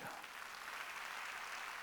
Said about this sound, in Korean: 다시 박수 치라고.